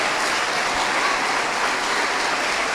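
Steady, dense clapping from a church congregation fills the space evenly, a continuous hiss of many hands without breaks or voices standing out.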